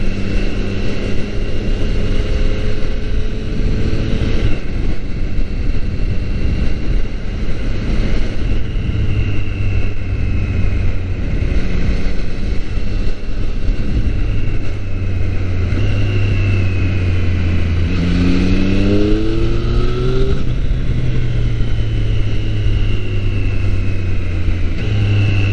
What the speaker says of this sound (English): Out of my 3 motorcycles, the Street Triple is definitely the most versatile.